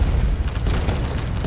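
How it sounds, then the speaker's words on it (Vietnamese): Ship cannon fire in Roblox Pirate Clash, a dense continuous low booming roar, loud and close, with overlapping blasts and no clear gaps. "mình đang dùng đại bác"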